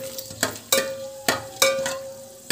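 Whole cloves, small and large cardamom and bay leaves frying in a pan for aloo dum biryani, a low steady sizzle broken by several sharp stirring scrapes and clinks at an uneven pace, close by with no talking.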